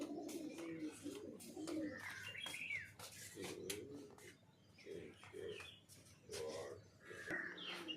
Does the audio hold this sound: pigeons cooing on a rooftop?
yes